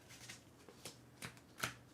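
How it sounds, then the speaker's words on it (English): A deck of Marvel United Megaverse game cards shuffled by hand, giving soft papery riffles and a few crisp card snaps spaced about every half second, quiet and close with no talking. "I think you saw me shuffle this, but I'm going to do it again"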